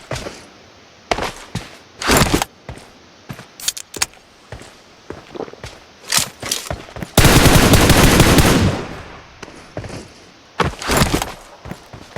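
Gunfire in the mobile shooter PUBG Mobile: short, sharp bursts of automatic fire, then a sustained rattling burst lasting about two seconds, then more scattered shots, all close and loud with quiet gaps between and no talking.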